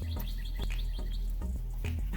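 Birds chirp outdoors near a maple tree, a run of short, bright tweets repeating quickly over a steady background rumble, moderately close.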